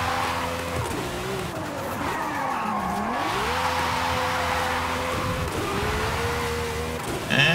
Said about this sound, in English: If we want to get around the corner, we can slide